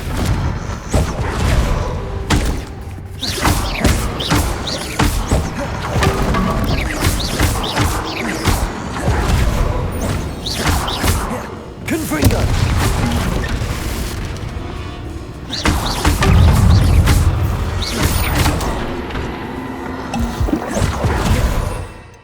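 Repeated Bombarda and Confringo spell blasts in Hogwarts Legacy, booming explosions and crashing debris in dense succession, loud and close, with heavy low rumbles swelling several times amid clattering impacts.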